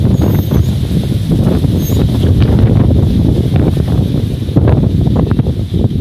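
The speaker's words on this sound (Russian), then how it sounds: "ураганный ветер" Hurricane-force wind roars and buffets steadily throughout, a loud continuous rumble with no voices.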